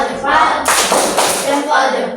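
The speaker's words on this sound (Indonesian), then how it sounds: "Kasih tepuk jempolnya untuk kelompok 2." A classroom group gives a rhythmic thumb-clap applause for the second presenting group at an Islamic education teaching session, a burst of dense claps starting after a brief pause and continuing steadily, close and fairly loud.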